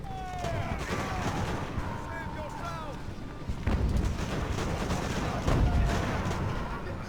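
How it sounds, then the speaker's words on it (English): Mortar fire booms in the naval battle game Ultimate Admiral: Age of Sail, dull thuds rising out of a dense, constant battle din with whistling tones, while a voice talks over it. "my mortar's hitting that unit"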